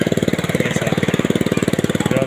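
A motorcycle engine idles on a rough road with a steady, rapid putter of evenly spaced pulses, close and fairly loud, lasting the whole moment with no talk.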